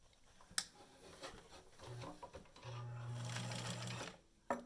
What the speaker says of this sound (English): we're going to stitch that